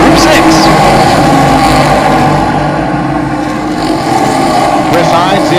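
Race cars roar off together at a green flag start at Road America, a loud, dense engine wall accelerating uphill, up close and unbroken throughout.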